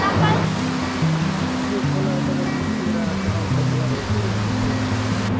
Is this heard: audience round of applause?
no